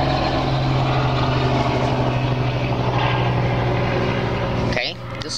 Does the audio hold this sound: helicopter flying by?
yes